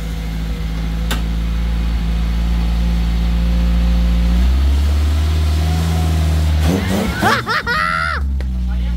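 A Peugeot 309 GT engine idles steadily with a low drone, then its tone shifts as the car is put into reverse, followed by brief clunks and a short burst of higher, wavering noise near the end; talk is present.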